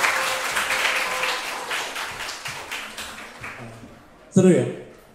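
An audience at a talk applauds the day's presenter with sustained clapping that gradually fades, and voices speak over it. A short louder sound comes near the end.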